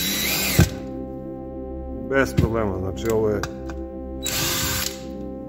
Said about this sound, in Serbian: kako ona buši